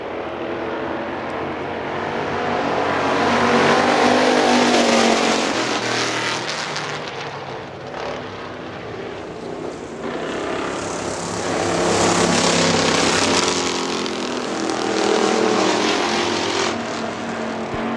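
Factory stock race cars roar around Hartford Speedway Park, engines swelling loud as they pass close and fading between passes, a dense, continuous blare of several cars at once with no talk.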